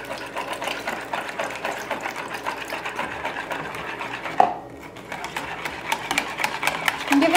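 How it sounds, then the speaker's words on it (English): Fast, continuous whisking beats milk into an egg mixture for gluten-free bread. The rapid rhythmic rattle is close and steady, with one brief pause midway. "And give it a really good whisk."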